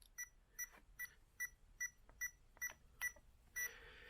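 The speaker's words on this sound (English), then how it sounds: "The red LED flashes 1 time and the motor beeps 1 time to accept the neutral position." A series of short, evenly spaced electronic beeps from a motor during Hobbywing 1080 ESC calibration, about nine in quick succession, each a clean high tone against quiet background hum.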